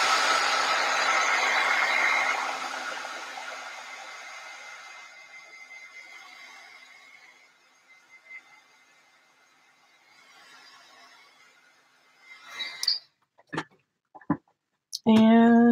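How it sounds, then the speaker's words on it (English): Handheld heat dryer blowing on wet craft paint for journaling, a loud steady whir that fades as it is switched off, followed by scattered clicks and handling knocks. "Dryer."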